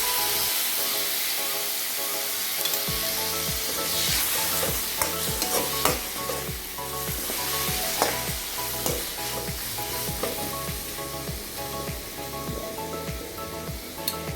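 Chopped tomato sautéing with onions in a pan for raw jackfruit gravy, a steady close sizzle with rhythmic spatula strokes scraping the pan about twice a second, no one speaking.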